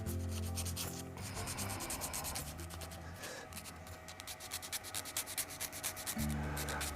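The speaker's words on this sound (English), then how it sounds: "just sand the bottom of this knot a bit more" Sandpaper rubs steadily against the bottom of a multi-coloured wooden shaving brush handle near a 30mm knot, a close, continuous scratchy rasping with rhythmic strokes and no talking.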